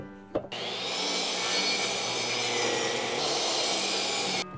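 A saw cutting through a birch log, a smooth, continuous rasping stroke that runs loud and close for about four seconds after a brief knock, with no speech.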